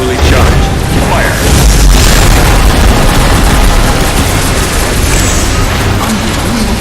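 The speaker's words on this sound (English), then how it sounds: "Shields absorbed a full blast from the gas cannon" A gas cannon blast in the VR game Unearthing Mars 2 (The Ancient War), a heavy booming roar filling the scene continuously and loudly alongside dense mechanical battle noise, with no talk over it.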